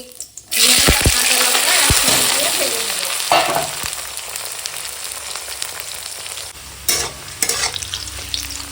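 Onion, green chilli and bay leaf sizzle loudly in hot mustard oil in a wok, a steady crackling hiss with occasional stirring clinks close by.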